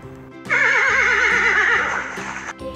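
A horse gives a loud, close, quavering whinny lasting about two seconds, its pitch wavering rapidly before fading out.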